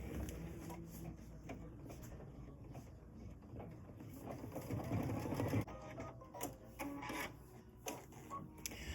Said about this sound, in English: I'm going to go ahead and stitch the small heart.